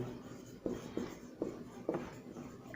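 Chalk or marker taps and scratches on a board as a definition is written out during a fluid mechanics lesson, four short distinct strokes over a low room hum.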